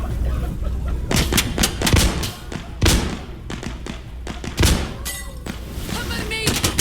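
Fire support strike in the game Insurgency Sandstorm, heavy explosive booms and thuds landing in irregular bursts, some close and loud, others farther, with crackling debris between impacts.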